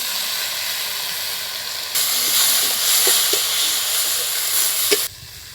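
Tomatoes dropped into a hot pan while making mint chutney, a sudden loud sizzle that swells into steady frying hiss with a few stirring clinks, then cuts back to quieter sizzling.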